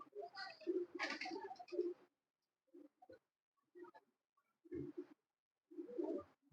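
Pigeons coo in low, throaty bursts, one long warbling call followed by several short, soft coos with pauses between, close by and quiet.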